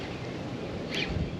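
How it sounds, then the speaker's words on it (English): Steady wind blows outdoors beside a lake on a musky fishing outing, a continuous broadband rush of gusts buffeting the microphone with no speech. "Wind is blowing in here."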